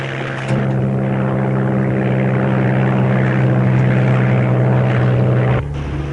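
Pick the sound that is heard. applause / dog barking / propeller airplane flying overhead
propeller airplane flying overhead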